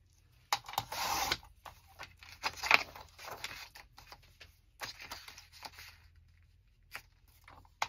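Paper having its white edge trimmed off with a cutter during journal decorating: a short rasping slice up front, then softer scraping and scattered light ticks, close and quiet with no voices.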